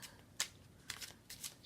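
A tarot deck being shuffled, with several quick riffling bursts of cards close by in a quiet room, no talking.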